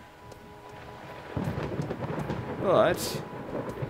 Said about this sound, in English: Whoa, this storm is really strong.